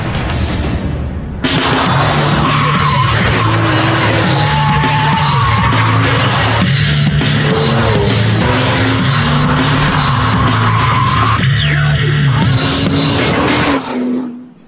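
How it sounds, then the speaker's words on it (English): A Porsche 911 GT2 driven hard, its engine loud and close as it revs up and down through gear changes with rising and falling pitch, then it cuts off abruptly at the end. "It's the new 911 GT2."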